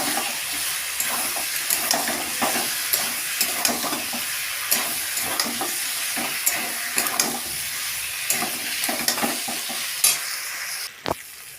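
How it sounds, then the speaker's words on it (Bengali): Potatoes sizzle and fry in a pan while being stirred, a steady hiss broken by repeated scraping knocks of the spoon, close and fairly loud, with a sharp clatter near the end. "এবার আলুটাকে দিয়ে দেবো আর আলুটাকে দিয়ে ভালো করে কষাবো"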